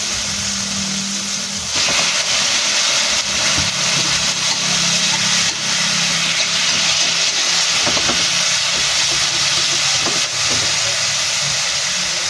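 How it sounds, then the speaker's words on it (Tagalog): Chicken hits a pan of cooked-down tomatoes and sizzles, a steady loud hiss that jumps in strength shortly after the start and carries on with occasional stirring clatter, close up and without talk. "lagay natin yung manok."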